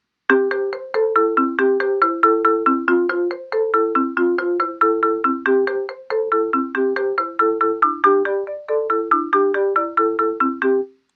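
Song Maker sequence of synthesized marimba-like tones in a steady, busy looping rhythm, with two percussion parts shifted one step apart so the notes interlock; bright, close and continuous with no talking.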